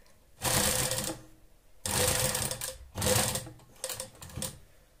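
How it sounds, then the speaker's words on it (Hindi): A sewing machine stitching pleats on a sleeve runs in four close bursts of rapid, rattling motor whir separated by short pauses, with no talk. "यहाँ पर ऊपर हम सिलाई चलाते जाएंगे"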